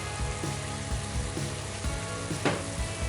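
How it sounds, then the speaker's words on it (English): Mirin, soy sauce and sugar sizzle steadily in a hot pan, a continuous close frying hiss with small bubbling pops and one brief louder burst of spatter, no talking. "Then cook it until the condiments evaporate."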